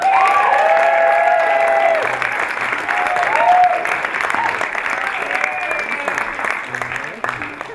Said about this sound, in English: please give a hearty roar of applause to your final comic of the night, Erin Hattamer.